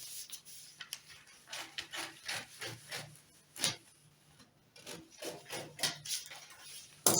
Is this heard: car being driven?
no